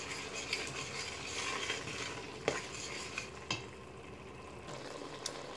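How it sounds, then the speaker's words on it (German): A spoon stirs a spicy African tomato sauce with oil pooling on top in a pot. There is a low bubbling simmer with occasional soft scrapes and knocks close by, and no voices. "Umrühren."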